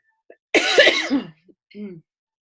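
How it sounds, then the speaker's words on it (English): A single loud, harsh cough bursts out, followed by a softer throat-clearing sound a moment later, close to the listener. "I just heard him cough too."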